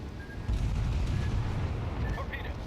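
Torpedoes strike the battleship Warspite in World of Warships: a deep, heavy boom rises at about half a second into a sustained low rumble, with faint game effects above and no voice.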